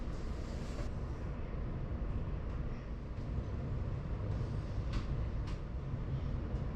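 A Dutch NS VIRM double-deck electric train rumbles steadily, heard from inside a carriage, with a constant low roar and occasional faint clicks over the rails.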